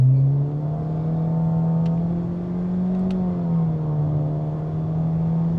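A Honda Civic RS hatchback engine revs up under acceleration, a loud, smooth, rising drone with shifting pitch heard from inside the car, with no voices.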